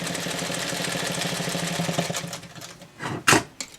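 A sewing machine stitches a small tinder bag, its needle chattering in a fast, even mechanical rhythm close by, then slowing and stopping, followed by a few scattered handling clunks.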